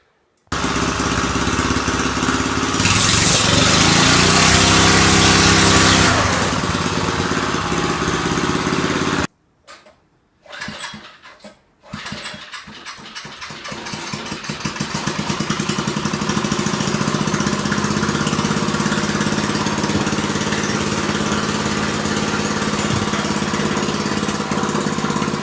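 A go-kart engine runs loud and steady, roaring at first, then cutting out briefly and sputtering before settling back into a continuous running drone.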